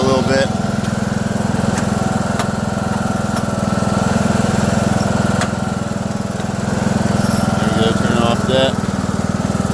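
A lawn mower engine fitted with a homemade leaf bagger runs loud and close, holding a steady throbbing drone that swells slightly as the throttle is raised, with a voice faintly audible beneath it.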